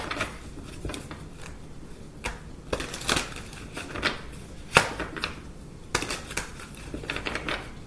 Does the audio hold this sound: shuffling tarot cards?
yes